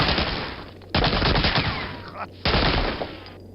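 Gunfire in the PC shooter Medal of Honor Allied Assault rattles loud and dense, with sustained bursts that restart abruptly twice, and a voice talks faintly underneath.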